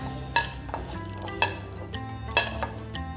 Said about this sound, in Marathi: खलबत्त्यात ना डिंक आणि सीड्स हे वाटून घ्यायचे आहेत